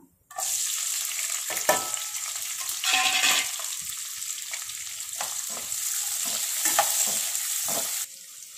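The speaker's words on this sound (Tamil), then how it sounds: "இதை நல்லா நம்ம வதக்கிடலாம்." Onions sautéing in hot oil with cinnamon, cardamom and clove, a loud continuous sizzle broken by repeated scraping strokes of a spatula, starting abruptly and stopping just before the end.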